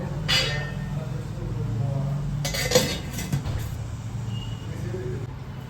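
A metal lid is set onto an idli steamer pot of boiling water, giving a brief clatter and clink near the start and another around the middle, with kitchen background noise throughout.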